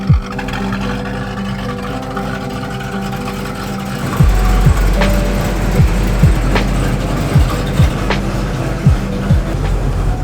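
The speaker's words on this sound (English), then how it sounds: "that is what I call a pretty smooth friggin' idle." A car engine idles steadily under a continuous low rumble, with a few sharp knocks or clicks near the start and a slightly louder, busier stretch from about four seconds on; no one speaks.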